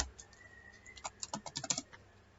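Computer keyboard typed rapidly while code is erased, compiled and run, a quick cluster of light clicking keystrokes, fairly close and quiet, with no voice.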